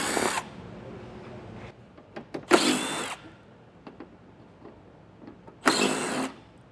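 Power drill with a 10mm socket removing four bolts beneath a 2025 Jeep Grand Cherokee, three short whirring bursts with quiet gaps and faint clinks between, close and fairly loud, no talking.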